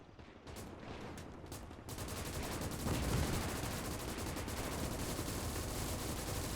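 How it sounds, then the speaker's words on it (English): Gunfire in a WW2 video game's British campaign, with tank machine guns firing: sharp, rapid shots and bursts that are quieter at first, then grow louder and denser, forming a continuous crackling volley. "He is shooting me, and I don't like it."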